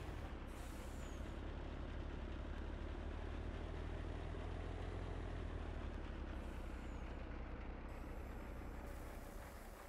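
Truck in Farming Simulator 19 idling with a low engine rumble, broken by sharp hissing bursts of air brake release near the start, in the middle and toward the end.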